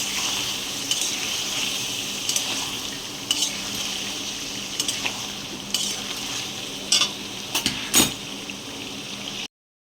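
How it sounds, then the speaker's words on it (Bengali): A vegetarian spiced potato curry, village style, sizzles steadily in a pan. A spatula scrapes and stirs through it with repeated clinks, close and alone. "এবার এটাকে দিয়ে ভালো করে কষিয়ে নিতে হবে"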